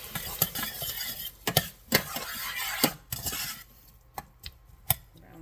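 Garlic sizzles and fries in a hot pan with onions and basil, while a utensil stirs and scrapes against the pan in sharp, irregular knocks over the steady frying hiss; no talking.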